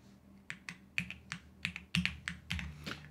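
Someone types a password on a computer keyboard, producing about a dozen crisp, quiet key clicks in an uneven rhythm, with no talking.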